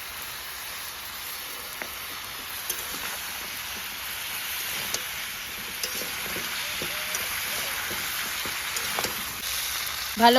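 Food frying in a pan with turmeric and salt added, a faint continuous crackling sizzle with scattered small pops and stirring ticks, steady and unbroken with no talking.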